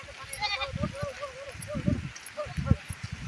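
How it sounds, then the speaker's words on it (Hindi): Goats bleat in a rural farm setting as they are led out to graze, short wavering cries repeating at close range over a soft outdoor background, mixed with voices and other low bursts. "ये देखिए हम लोग बकरी भी ले जा रहे हैं चराने के लिए"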